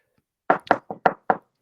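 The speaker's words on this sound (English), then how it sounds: "the knock was a steady hollow thump" Five steady, hollow knocks on a door, close and distinct, spaced in an even rhythm with nothing else around them.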